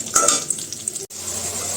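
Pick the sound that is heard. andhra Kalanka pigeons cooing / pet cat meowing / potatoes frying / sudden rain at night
potatoes frying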